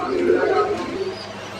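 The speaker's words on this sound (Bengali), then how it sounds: "এখানে আরেক জোড়া কবুতর আছে" Pigeons cooing in a pigeon loft with Lahori and other fancy breeds, a soft low throaty coo rolling close by for about a second, with a person speaking over it.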